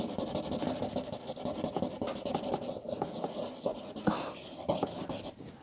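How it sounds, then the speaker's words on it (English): Crayons rub and scratch across paper in a quick run of short, uneven strokes, close by and fairly quiet, with no talking. "Now that I'm starting to draw it."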